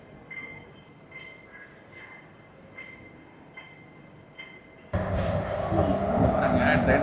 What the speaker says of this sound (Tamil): பாருங்க, ட்ரெயின் கிளம்பிருச்சு.